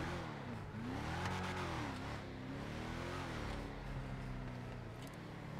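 A Yosemite pickup truck, modeled on a GMC Sierra, revs its engine in GTA 5 Online, a steady loud drone with rising and falling pitch sweeps, continuous and close throughout, with no talk.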